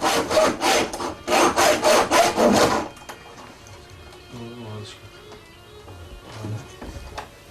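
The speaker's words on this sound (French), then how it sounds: "alors on va scier ça simplement" A saw cuts through a padlock in rapid back-and-forth strokes, loud and rasping for about three seconds, then stops as faint voices and small noises follow.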